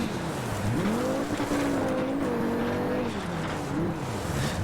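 Rally car driving in the Richard Burns Rally video game, its engine droning steadily with pitch rising and falling through gear changes and throttle lifts, gravel and road noise hissing underneath, loud and continuous.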